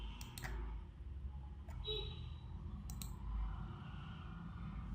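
A computer mouse clicks on a continue button during a Jenkins install on a Windows PC, giving a few sharp, faint clicks with a soft background hum and no speech.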